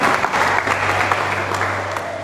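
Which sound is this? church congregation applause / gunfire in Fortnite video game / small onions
church congregation applause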